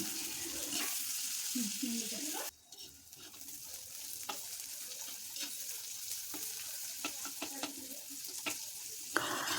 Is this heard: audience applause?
no